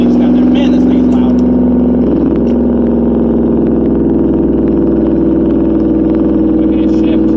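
Loud, steady engine drone of a BMW 740iL while driving, heard from the cabin with a brief pitch dip around a shift, and someone speaking over it.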